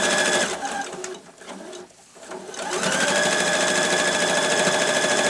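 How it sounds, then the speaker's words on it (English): Sewing machine stitching across the opening of a lined zippered tote bag, a close, loud steady whirring hum that dips and pauses briefly midway, then runs on continuously. "I'm going to start just on one side of that opening, off the fabric, sew onto it, join the two sides together"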